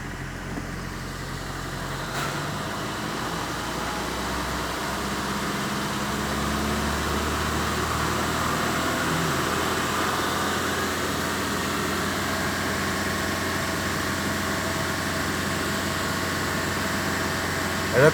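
A car engine fitted with a speed governor, accelerating with a steady mid-to-low engine drone that holds at a near-constant level and pitch, close and even throughout, with no talk.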